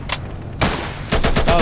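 Multiplayer Insurgency gunfire comes in close, loud bursts: a short shot, a heavier burst, then rapid automatic fire at the end.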